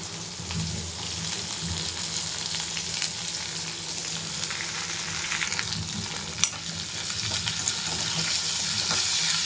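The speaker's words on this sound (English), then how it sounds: "Saute this for a few minutes." Drumstick pieces sauté with green chili and ginger in a hot pan, giving a close, continuous crackling sizzle with light stirring scrapes and one sharp clink of a utensil.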